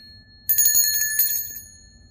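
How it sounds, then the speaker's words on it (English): A small silver bell jingles in a quick rapid shake lasting about a second, bright and close, then rings out and fades in an otherwise quiet room. "It is a pretty looking bell."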